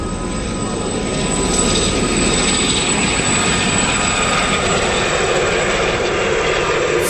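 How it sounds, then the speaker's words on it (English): Gazelle helicopters of a display team roar past at an air show, a loud, steady broadband rush of rotor and turbine noise that swells slightly after the first second and holds without a break. "it's helicopter time for you, my boy. And we've got this Gazelle display team."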